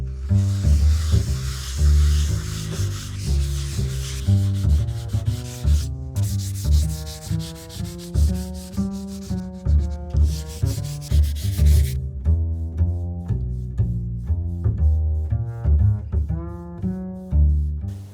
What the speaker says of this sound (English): We'll sand it down very slightly with 240 grit sandpaper and get it ready for the second coat.